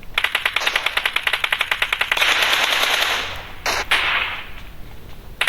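Rapid automatic gunfire in a video game, fired from behind a wall, loud and close: a fast regular burst of shots followed by a dense sustained stretch of firing and a few final cracks, with no talk.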